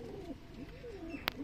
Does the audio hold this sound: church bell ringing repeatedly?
no